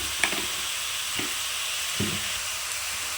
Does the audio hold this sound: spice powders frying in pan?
yes